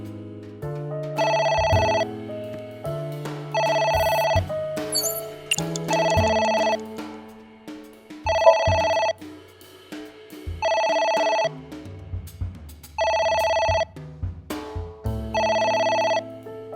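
A telephone rings in the video game AI: The Somnium Files, sounding seven loud, evenly spaced bursts of electronic ringing over a low background music track, with no talking.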